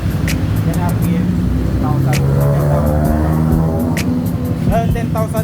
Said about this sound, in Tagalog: Grabe yung backfire mga tol.